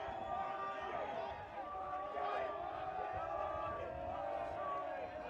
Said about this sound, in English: You can hear the UAlbany bench and crowd getting into this one